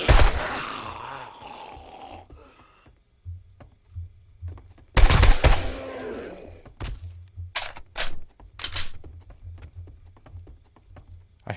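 Tactical assault rifle fire in 7 Days to Die opens with a loud burst, then, after a pause, comes another heavy volley and several sharp single shots, mixed with zombie-like groans and grunts.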